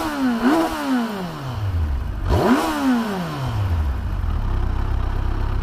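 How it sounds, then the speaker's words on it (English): A 2016 Kawasaki Versys 1000 motorcycle engine is revved twice up close, each blip rising sharply in pitch and then falling back to a steady idle. "after revving it, I was like, is it still on?"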